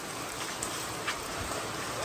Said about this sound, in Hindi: और बारिश आ गई है आज